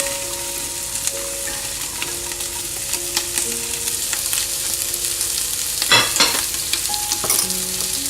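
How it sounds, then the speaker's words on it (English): Onions, celery and capsicum sizzle steadily in a frying pan for corn chowder while a spoon stirs them, with scraping and a couple of sharper clinks against the pan near the end. "I'm going to give it a good mix and let the onions turn translucent."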